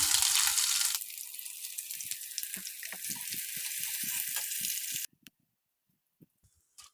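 Ginger garlic paste sizzles and fries in a hot pan, then water rinsed from a mixer jar is poured in, leaving a steady hissing sizzle broken by sputtering pops before it abruptly quiets to faint occasional clicks.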